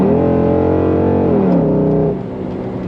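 A 2006 Chrysler 300 SRT8 with a freshly installed camshaft accelerates hard, its V8 droning loud and close with rising harmonics before easing off into a lower, rougher idle-like rumble.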